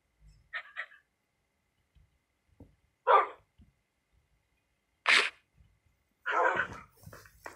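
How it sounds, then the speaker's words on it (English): Tamed wolves in Minecraft let out four short, separate barks spread across a mostly quiet stretch, each a brief clipped burst with no talking. "That is just a bit too many dogs."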